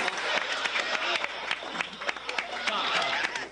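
An audience claps and cheers in a lively round of applause, with dense, fast claps and crowd noise mixed with voices talking throughout.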